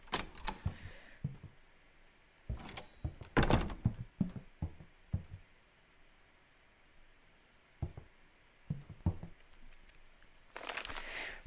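A mystery door opens in the Astray horror game, with scattered wooden thunks, knocks and creaks coming in short clusters over a quiet room tone, the loudest burst early and a final rustle at the end.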